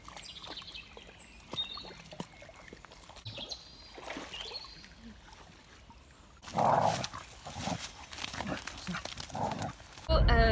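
Dogs out on a walk make scattered, faint outdoor sounds: brief barks, patters and rustling. A louder burst of activity comes in the second half, with a sharp noise at the very end.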